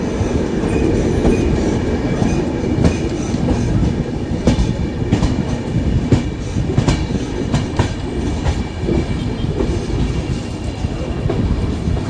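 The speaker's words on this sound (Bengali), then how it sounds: "সবে রেক শান্টিং হয়েছে আর আমরা 5 নম্বর প্ল্যাটফর্ম থেকে বেরিয়ে যাচ্ছি।" An LHB coach train, the Radhikapur Express, pulls out of a Kolkata platform with a loud, continuous rumble and rhythmic clickety-clack of wheels over rail joints, heard from inside the train.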